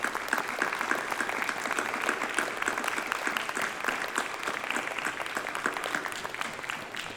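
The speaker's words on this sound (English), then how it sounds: "a round of applause for the colleagues." Lecture audience at a 2021 space conference giving a sustained round of applause, many hands clapping steadily and evenly for several seconds, full and fairly close.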